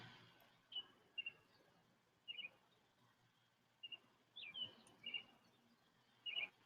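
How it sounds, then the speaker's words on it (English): Faint, high chirps from birds outdoors, coming in short separate bursts of one or two notes over a quiet background hum. "I hear the birds chirping over there, Desi."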